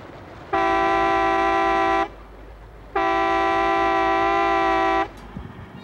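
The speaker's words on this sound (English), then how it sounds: "an air horn alerts the crew" Two long, loud blasts of a deep air horn on a menhaden fishing boat, each about a second and a half, separated by a short pause over low background rumble.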